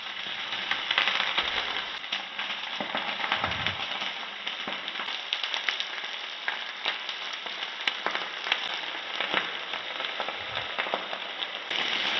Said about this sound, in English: Saute for 2 minutes on medium heat.